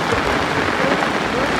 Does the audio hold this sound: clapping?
no